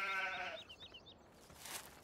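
Sheep in the Farming Simulator 17 video game bleat briefly, a quavering call followed by fainter chirpy sounds, fairly quiet with no talk over it.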